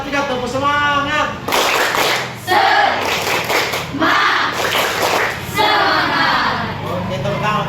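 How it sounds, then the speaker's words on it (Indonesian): A standing group claps together in a rhythmic spirit-clap routine, loud and close, in repeated bursts, with a voice calling out between rounds. "tepuk semangat. Satu kali lagi bisa?"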